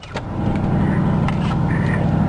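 Engine of a 1960 Dodge Dart runs steadily after a cold start, a loud, close, even rumble with a slight rise in the first moment and faint clicks, no voices.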